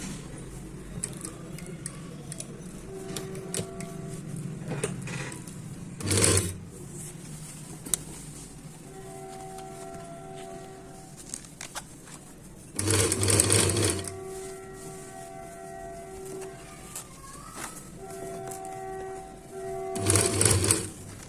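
Domestic sewing machine stitching a collar band, running in several bursts of rapid mechanical whirring separated by pauses with quieter handling noises, close and fairly loud.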